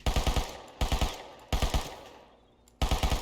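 An MP5 submachine gun in the video game Rust fires four short, loud bursts of rapid shots separated by brief pauses.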